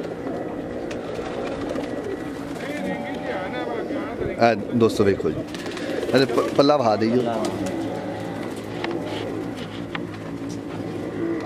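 A black and blue Teddy pigeon gives soft, repeated coos, strongest in the middle, while someone talks over them nearly the whole time.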